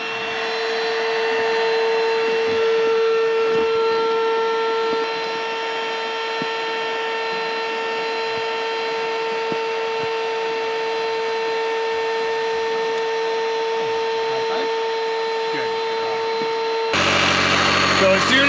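Electric air pump inflating an air-floor inflatable boat, a loud steady motor drone with a fixed whine held for most of the stretch, then shifting abruptly to a rougher, different tone near the end.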